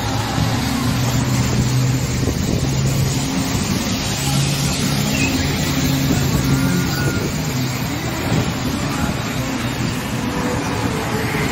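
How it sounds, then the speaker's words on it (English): Traffic on the 101 freeway makes a dense, continuous roar of passing cars and trucks, broadband and steady with a low rumbling hum, unbroken and fairly loud across the whole stretch, with no clear talking. "There's the 101 freeway."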